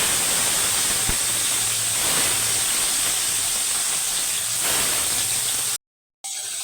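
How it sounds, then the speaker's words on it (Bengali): Rohu fish frying in hot oil in a wok, a steady dense sizzle that holds evenly throughout at close range, with a brief cut near the end. "মাছ ভাজবো, তেল দেবো কড়াইতে"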